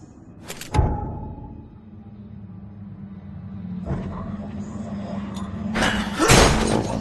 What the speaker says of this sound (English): The door won't budge.